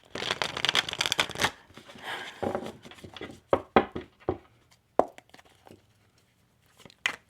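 Tarot cards shuffled by hand in quick riffling bursts, loud and close at first, then separate flicks and taps trailing off into quiet, with no talking.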